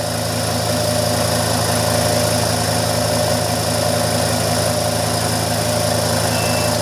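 The motor of a Kromrey generator runs with a loud, steady, even hum and a constant mechanical drone, with no talking over it.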